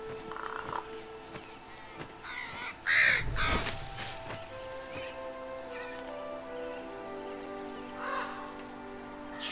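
A raven in the video game Moss gives several harsh caws, one loud call standing out, over a steady ambient bed of rain-like patter and soft natural sounds.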